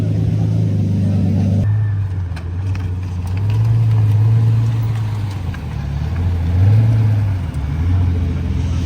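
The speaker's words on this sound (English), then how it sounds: "So the green manual Mercy is heading out." A green manual Mercedes supercar pulls away, its engine rumbling loud and close with rising and falling revs as it drives out, while a voice talks over it.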